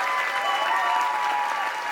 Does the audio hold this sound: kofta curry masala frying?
no